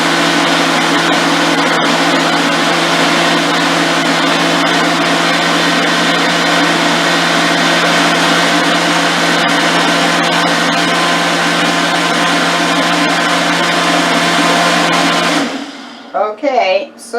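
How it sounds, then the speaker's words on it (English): A Ninja blender on boost crushes a frozen hazelnut coffee drink with a loud, steady, high-pitched whirring roar that runs continuously for about fifteen seconds, then cuts off abruptly, leaving brief faint rattles. "let me forewarn you, the Ninja is loud. Okay, I hit the boost and start."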